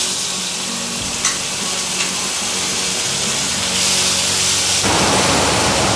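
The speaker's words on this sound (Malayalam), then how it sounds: "അതിലേക്ക് ജിഞ്ചർ ഗാർലിക് പിന്നെ ചുവന്നുള്ളി മുളക് പച്ചമുളക് ഇതെല്ലാം കൂടെ നമ്മൾ നേരത്തെ പേസ്റ്റാക്കി വെച്ചിരുന്നത് അതിലേക്ക് ഇടുക" Ginger, garlic, shallot, red chilli and green chilli paste frying in coconut oil gives a steady, loud, close sizzle that swells toward the end, with a few faint stirring knocks and no talking.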